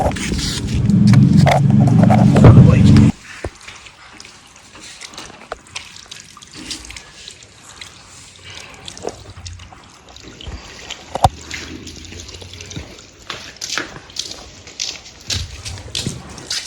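A loud rush of splashing water for a few seconds, then quieter scattered splashes and dripping nearby.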